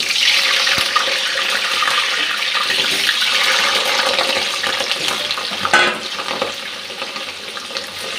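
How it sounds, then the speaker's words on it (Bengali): Potatoes fry in a pan with cumin, chilli, turmeric, cardamom and cinnamon, making a dense, steady sizzle and hiss that eases slightly near the end, with a brief clatter around the middle. "আমি আলুটা ভেজে নিচ্ছি।"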